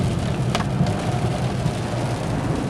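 Rain at night drums steadily on a Buick Regal Turbo driving along a windy road, a continuous broadband wash of drops and road noise with a brief sharper splash, no voices.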